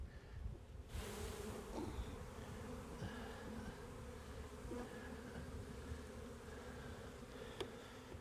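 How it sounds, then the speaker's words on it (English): A dense, steady drone of many honey bees buzzing close by as bees are shaken off a hive frame, continuous and unbroken, with a few faint knocks and clicks underneath. "Just shake those bees off."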